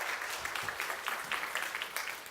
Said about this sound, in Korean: 여러분 다시 한번 박수로 할렐루야.